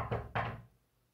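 Two firm knocks on a wooden door, the house of the bears in a Goldilocks story, close and distinct, followed by quiet.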